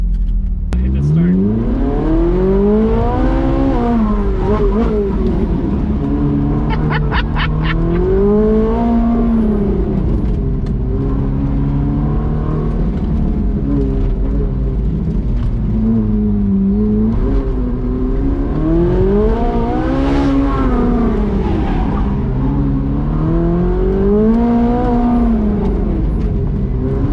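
A Lamborghini Huracan or Ferrari 458 supercar accelerates hard on a race track, loud engine revs climbing in repeated sweeping pulls through the gears, close and continuous.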